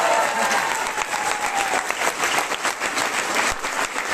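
Indoor audience applause at a motivational seminar, a dense, steady burst of many hands clapping close by, with faint crowd murmur underneath.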